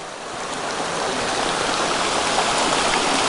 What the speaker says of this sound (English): Fording the stream.